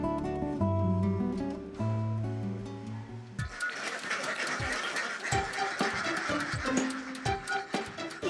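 Ducks raised by a family quack in short bursts after a stretch of other tonal sound, with scattered clatter around them.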